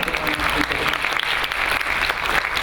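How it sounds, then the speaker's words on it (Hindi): An audience at a teaching event claps for a presenter, a brisk burst of close, lively applause with a voice speaking over it. "रुमाना के लिए बहुत सारी तालियाँ"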